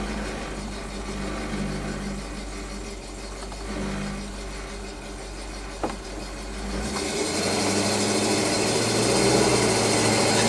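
A 1984 Chevy K20 truck fitted with a new muffler drives along, its engine giving a steady low exhaust drone that swells and grows rougher partway through.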